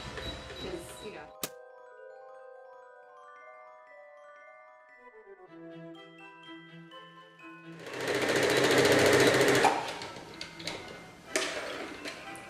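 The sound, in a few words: sewing machine stitching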